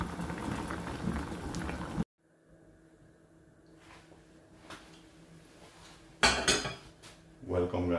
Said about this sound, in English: Here I just have some new potato boiling on the side.